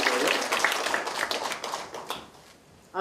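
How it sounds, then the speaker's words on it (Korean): Audience applause at a public forum on a Seoul ordinance supporting atomic bomb victims: a dense patter of clapping that gradually thins and fades out over a few seconds, with a brief burst at the very end. "박수 한번 보내주시고요"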